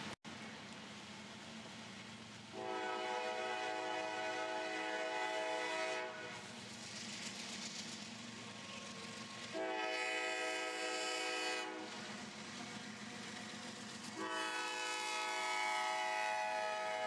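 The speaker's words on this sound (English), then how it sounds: "With the helpers cut on, the coal train heads up the mountain." Loaded Georgia Power coal train on CSX's Chattanooga Subdivision climbing a mountain grade with helper locomotives, a steady low diesel rumble under repeated long, loud horn blasts that start and stop several times.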